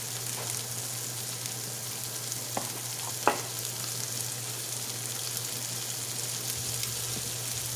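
Atlantic tiger shrimp sautéing in a pan, a steady close sizzle and hiss of frying with a couple of faint clinks from a utensil, no talk.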